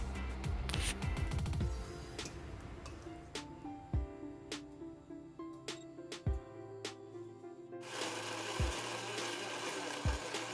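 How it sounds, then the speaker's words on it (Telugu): A kitchen mixer grinder grinding one kilogram of chicken into a smooth paste: a loud motor whine opens, then comes short start-stop whirring bursts with clunks of the jar, and the motor rises again near the end. "1 కిలో చికెన్ని ఇలా మిక్సీలో వేసుకుని బాగా మెత్తగా రుబ్బుకోవాలి"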